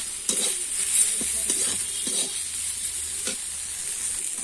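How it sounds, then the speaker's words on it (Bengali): Brinjal frying with neem flowers is stirred in a hot pan, giving a steady sizzle broken by a few soft scraping strokes of the spatula. No one speaks. "নিমের ফুলটা দিয়ে আমি আবার একটু নেড়ে নেব।"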